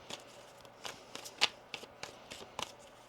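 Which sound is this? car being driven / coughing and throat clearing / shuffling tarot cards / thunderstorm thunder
shuffling tarot cards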